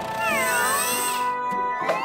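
A cartoon kitten meows in a German children's animated series, several clear, high-pitched mewing cries heard close and loud over light background music.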